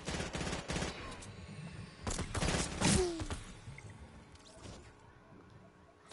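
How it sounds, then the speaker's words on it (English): Gunfire in the Fortnite video game, with bursts of rapid shots clustered early and again around the middle, fading to quieter scattered sounds, moderately loud with a faint background. "Bunnier, watch out, he's shooting you!"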